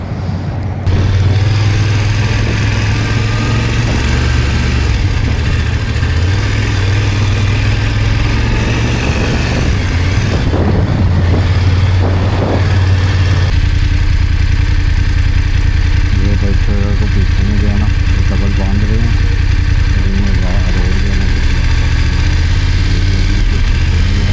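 A motorcycle engine idles with a low, steady putter throughout, close by, with someone talking over it and the engine note shifting midway.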